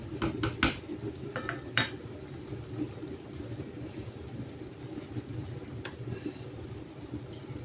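A metal lid put onto a pot of boiling macaroni, a few sharp clanks at the start and another clink near the middle, faint against a low steady rumbling background.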